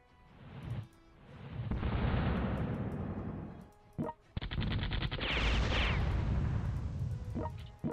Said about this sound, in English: Damn, they're shooting fireworks too.